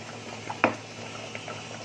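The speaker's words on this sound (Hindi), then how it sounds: "एक नारियल का जो चौ मैंने आपको दिखा था, जिसका वजन है पाव किलो, उसमें पानी डालूंगी 150 ml" About 150 ml of water is poured into a quarter kilo of grated coconut for Konkani bhanori, a faint, brief liquid splash against a quiet background hum.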